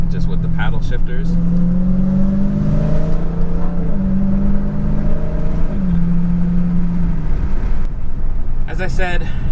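A supercharged 6.2L V8 in a 707 hp Dodge Charger Hellcat revs through paddle-shifted gears, a loud deep engine note climbing and dropping in stepped pulls before easing off near the end.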